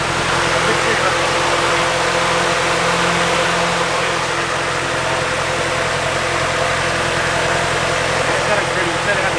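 A Nissan 240SX S14 drift car's engine is held steady at about 2,000 rpm, giving a loud, constant drone with a dense rough texture, close by and unbroken for several seconds.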